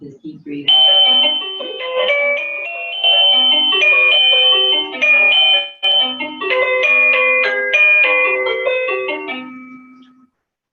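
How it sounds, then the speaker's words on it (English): A home doorbell plays a long melodic chime tune of several ringing notes lasting around ten seconds, loud and clear, while someone speaks briefly over it. "That was my doorbell."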